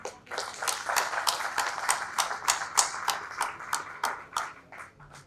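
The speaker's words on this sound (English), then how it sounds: "can I have a huge round of applause for Mr. Khan?" An awards-event crowd claps through a round of applause, with distinct individual hand claps standing out over a softer, moderately distant patter.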